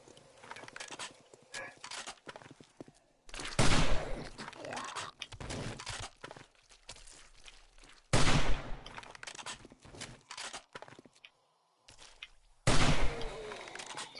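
Rifle gunfire in the video game 7 Days to Die, played on PS4: three loud, sharp shot bursts spaced several seconds apart, each with a decaying echo, over quieter game ambience and footsteps.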